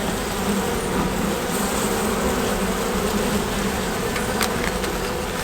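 Honey bees swarm around an opened hive during smoking and super work, producing a dense, continuous buzzing drone close to the listener with no voices.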